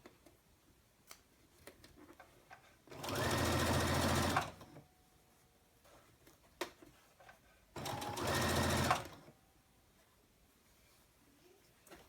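A sewing machine stitches a seam alongside a zipper on a small wristlet bag, running in two steady, close bursts of about a second and a half each, separated by quiet pauses with faint handling clicks.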